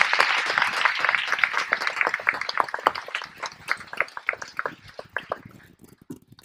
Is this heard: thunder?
no